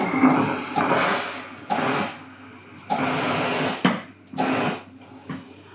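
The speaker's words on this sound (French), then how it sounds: "Je vais d'abord ici ouvrir la couture au fer." A steam iron presses a sewing seam open on a fabric crop-top or blouse, releasing about half a dozen short bursts of steam hiss with soft handling sounds between them. No one speaks.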